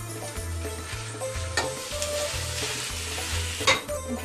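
Ground meat fries in a little oil in a pan, a steady sizzle broken by scraping stirs and a couple of sharp clinks over soft background music, with no talking.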